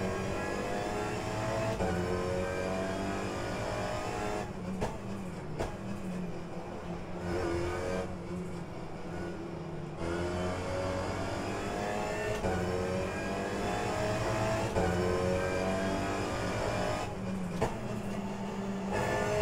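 Race car engines from the rFactor 2 sim racing game in an Alpine Rookie Cup race, a constant loud drone of revving and shifting with changes in pitch as the cars accelerate, running through the whole clip.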